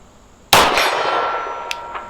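A .357 Sig round fired from a Sig P229 pistol strikes a steel gong, giving one sharp, loud clang that rings on and slowly fades, with a faint click or two afterward.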